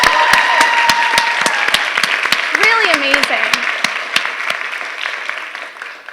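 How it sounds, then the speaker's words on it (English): An audience at a Three Minute Thesis competition gives the presenters a loud, sustained round of applause. A voice speaks briefly over it, and the clapping gradually thins and fades toward the end. "Can you give a round of applause?"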